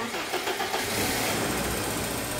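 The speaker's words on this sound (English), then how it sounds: "You can hear that the tappets or hydraulic lifters are noisy, making a clicking sound." A BMW E30 engine with noisy tappets or hydraulic lifters runs loud and close, a dense mechanical roar that settles into a steady running note, with a voice faintly underneath.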